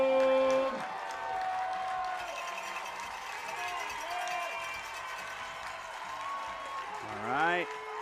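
High school football crowd at a Reading vs Deer Park game cheering and clapping in the stands, a broad distant roar with whoops, under an announcer's voice and a rising siren-like horn near the end.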